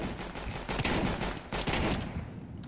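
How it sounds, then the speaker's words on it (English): A stock pistol in CS:GO cracks out amid a dense, loud exchange of gunfire, shots overlapping in quick succession close by. "I just got instant headshot by a pistol."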